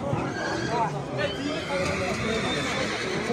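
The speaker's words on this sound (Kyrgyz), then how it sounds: "Буякта Россиядан келген жылкыларды кармап атат." Horses neigh and whinny amid a busy outdoor horse market, with overlapping calls, hoof sounds and constant crowd chatter filling the short stretch at a steady level.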